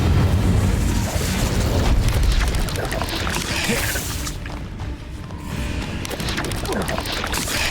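Incendio fire spell cast in Hogwarts Legacy on Switch, a loud roaring burst of flame with booming, whooshing energy that stays dense and continuous for several seconds amid other spell effects.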